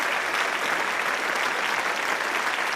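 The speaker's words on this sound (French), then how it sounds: "Ça va permettre à votre avatar d'envoyer quelques confettis et applaudissements pour réchauffer l'atmosphère" Applause sound effect from virtual avatars at an online event, a steady even wash of clapping that holds for the whole stretch with no voices.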